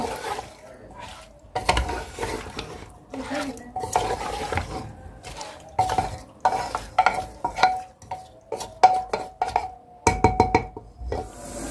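Spiced meat mixture being stirred and mixed in a pot, with repeated scraping and clattering strokes against the metal in bursts of varying loudness, close up, with no talking.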